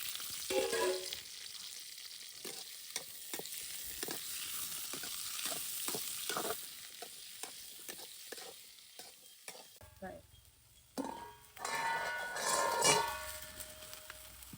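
Steady sizzling of shallots frying in oil, with scraping stirring strokes and clinks of a utensil against the pan.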